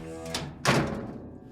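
A door shut with a single heavy thunk in a radio drama, landing midway over a steady musical bed, with no talking.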